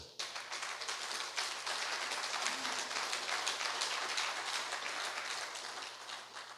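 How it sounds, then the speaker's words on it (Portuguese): A church congregation claps for several seconds at a Portuguese-language service. The dense, even applause swells quickly, holds steady and then tapers slightly, heard from a moderate distance. "Você pode aplaudir o Senhor?"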